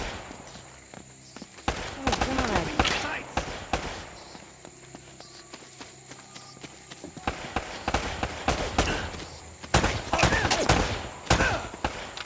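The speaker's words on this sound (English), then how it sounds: "Shoot to kill." Bursts of gunfire in Uncharted: Drake's Fortune, clustered volleys of shots with quieter gaps between them, over game ambience and footsteps.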